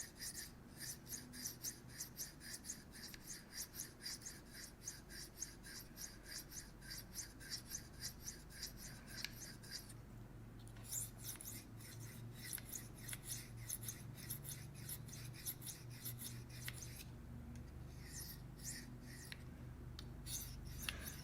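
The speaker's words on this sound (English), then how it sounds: "these last few steps before I come off of the stones, I'm really just trying to get the edge apexed" A knife is sharpened freehand on sharpening stones, the blade rasping back and forth in quick, even strokes for a long stretch, fairly faint and close, with brief pauses between passes.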